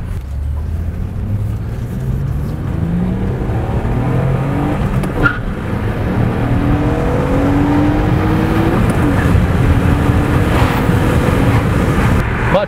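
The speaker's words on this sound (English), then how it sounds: "Now let's go for a drive and see how it does." A 2004 Acura TL with a 3.2-liter engine accelerates hard on a road test drive, its engine note climbing through several gear pulls with steady road and wind noise throughout, close and loud from inside the car.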